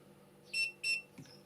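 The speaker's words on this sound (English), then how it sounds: "Wait for a double beep." A Kebtek 25v cordless pruner giving its double beep, two short, clear electronic tones in quick succession, close and fairly quiet, followed by a faint mechanical click.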